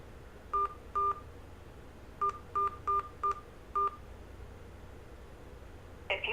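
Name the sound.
telephone keypad DTMF tones entering a conference access code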